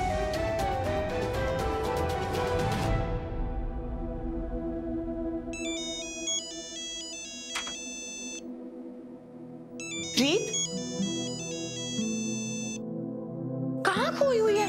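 A mobile phone ringtone plays in repeated bursts of bright electronic melody, separated by pauses, fairly close, with a voice speaking over part of it and some background music at the start.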